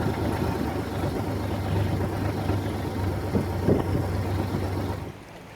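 A boat engine runs with a low, steady drone under wind and water noise off a Thai coast, then is switched off near the end.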